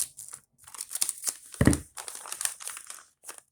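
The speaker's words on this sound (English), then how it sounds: "You can open it like that if you want, or go to the corner and start cutting." A paper bag rustles and crinkles as it is opened and cut, with bursts of crisp crackling, a brief thump partway through, and short pauses between the movements.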